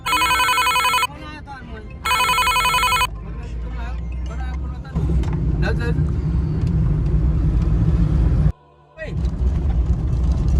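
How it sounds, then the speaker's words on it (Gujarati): A telephone rings in two loud electronic bursts separated by a short gap, followed by the low rumble of a passing vehicle with people talking. "હરીફભાઈ છેલ્લા ફોન કર્યા હરીફભાઈ ઉપાડતા નતા"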